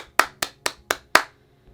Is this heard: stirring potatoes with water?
no